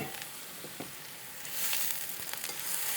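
Food searing in a hot pan gives a steady bright sizzle that swells louder partway through, with small pops and crackles and no voices.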